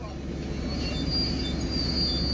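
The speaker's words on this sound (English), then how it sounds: "There's a train here." A train rolls through Newmarket station with a loud, close rumble and a thin high wheel squeal drifting over it, a brief steady pass with a voice faintly present.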